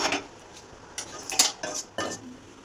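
Roasted peanuts stirred in a metal pan with a utensil, a few short scraping clatters in quick bursts, close and alone.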